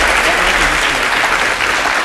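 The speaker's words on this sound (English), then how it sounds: "Let's give him a round of applause." Audience applause for a beginner's lightning talk on building and deploying a site, steady dense clapping filling the room for about two seconds with no speech over it.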